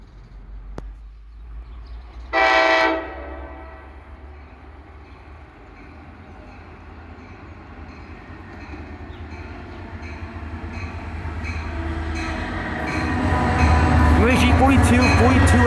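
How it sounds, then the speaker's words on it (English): An NJ Transit train, number 339 from Hoboken to Summit, pulls into Mountain Station in South Orange, New Jersey. A short horn blast comes first, then a rumble that grows louder with squealing wheels and clatter as the train arrives. "We're at Mountain Station, seeing train 339 from Hoboken to Summit."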